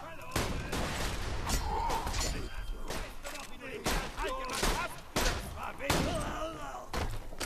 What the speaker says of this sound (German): Oh, eine Granate hat er geworfen.